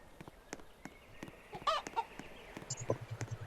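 Quail clucking in a Roblox video game, a few short clucks and chirps over quiet clicks and tapping, with a rapid run of low clucking notes near the end.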